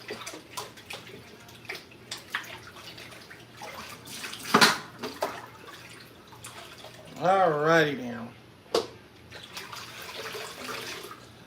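Water drains out of a kitchen sink after dishwashing, with gurgling and splashing and a rising swirl as it empties, close by, while someone briefly speaks.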